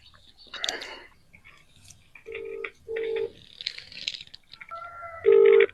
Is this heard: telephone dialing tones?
yes